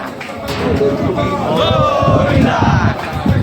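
A large, dense crowd of pilgrims at a temple, loud close hubbub with many voices shouting and cheering together in a continuous roar.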